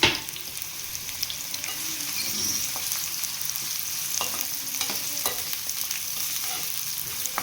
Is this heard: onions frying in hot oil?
yes